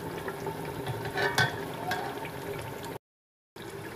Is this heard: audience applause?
no